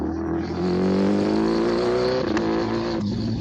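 A motorcycle engine revs steadily and loudly up close during wheelie practice, holding a sustained tone before the throttle eases off near the end.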